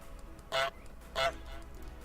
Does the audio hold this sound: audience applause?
no